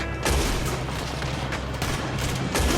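A dense fusillade of Red Dead Redemption 2 gunfire, rapid overlapping shots and booming reports cracking continuously at close range throughout a chaotic shootout.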